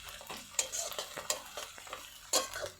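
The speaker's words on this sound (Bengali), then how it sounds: "দিয়ে ভালো করে নেড়ে চেড়ে নেব। মশলাটা একটু ভালো করে কষিয়ে নেব।" Cinnamon and cardamom being stirred and fried in a pan for a cabbage dish, heard as a series of close, irregular scraping strokes over a low background sizzle.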